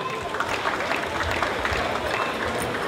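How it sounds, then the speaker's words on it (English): Audience applause at a Cameroonian thanksgiving and cultural day celebration, a sustained crowd clapping with scattered voices mixed in, fairly loud and continuous throughout. "Ladies and gentlemen, one round of applause for them again."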